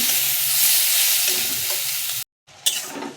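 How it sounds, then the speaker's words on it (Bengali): Onion, tomato and spices frying in oil, a loud close sizzle that drops out abruptly near the end, then returns with a sharp burst of spitting. "পেঁয়াজ টমেটো সব ভালো করে একটু কষে যাবে, আর তেলটাও ছেড়ে দেবে।"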